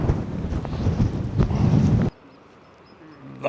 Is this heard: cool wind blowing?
yes